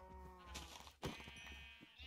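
Sheep bleating in the Minecraft video game, a clear bleat rising near the middle over game sounds, with short tones and clicks around it and no talk.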